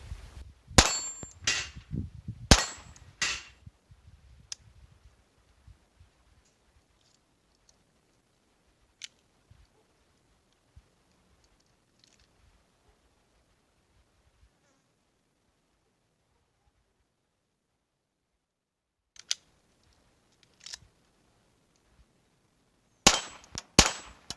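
A Ruger Mark III pistol fires .22 LR rounds outdoors: a quick cluster of sharp cracks with metallic clangs opens, a long near-silent stretch follows with scattered small clicks, then another burst of sharp reports closes.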